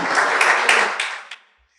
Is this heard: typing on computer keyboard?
no